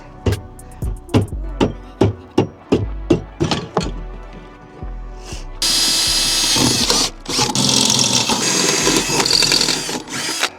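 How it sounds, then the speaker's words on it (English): Power drill boring holes in a Mk1 Audi TT to mount a JP Cages harness bar: a quick series of short whirring bursts, then a longer, louder, continuous grinding run close by, no talking. "Let's get to drilling, I guess."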